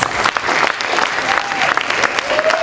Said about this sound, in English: Can we have a big, comfortable, warm round of applause for our speakers?